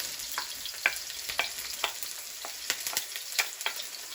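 Onion sizzles in a pan at moderate volume, a steady hiss broken by regular crackles and sharp pops every fraction of a second.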